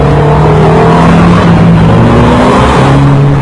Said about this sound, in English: this is the Cosworth engine. It sounds unbelievable, that nasally intake conk they love to hear in race cars, mixed with smooth, quiet running